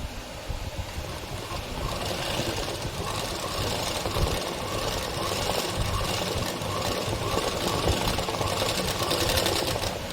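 A sewing machine stitches embroidery and cutwork on fabric with a continuous, fast, steady mechanical whirring and clatter, close and even throughout.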